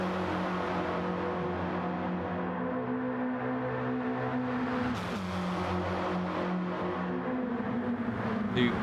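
Minimod race cars lapping the Bathurst circuit in a final, engines droning steadily with layered buzzing tones and a brief surge as the pack passes, no talk over the continuous motor noise.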